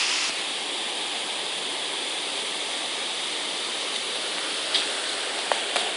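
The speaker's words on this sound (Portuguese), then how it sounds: "Olha lá a cachoeira." A waterfall roars in a steady, dense, close rush of falling water that holds the same level throughout, with a couple of faint clicks near the end.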